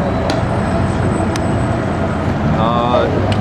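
Traffic in New York City near Ground Zero forms a steady background rumble of passing cars and heavy vehicles, with a few sharp clicks and a brief tonal whine, while a voice speaks over it.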